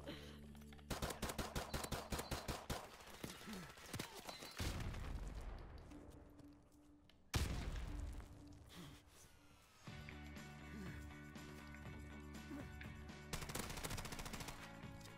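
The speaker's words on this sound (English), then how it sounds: "Okay, take so many shots." Rapid automatic gunfire from the Call of Duty Modern Warfare Remastered video game, with sustained bursts and sharp single shots and booms, loud and continuous across the whole stretch.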